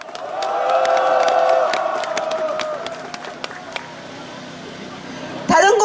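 A crowd at an outdoor rally of Sewol ferry victims' families near the Blue House breaks into sustained applause with cheering and whoops, fading after a few seconds as a voice over a loudspeaker comes back in.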